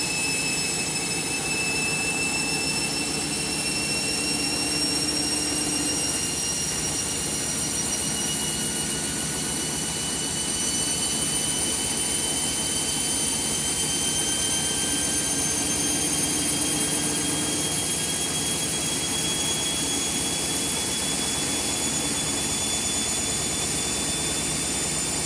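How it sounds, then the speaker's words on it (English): Overloaded Candy washing machine spinning at 1200 rpm, a loud, continuous whirring roar with steady high whining tones that slowly drift in pitch, heard close and with no talking. "I put it on a 1200 spin today, as you can see."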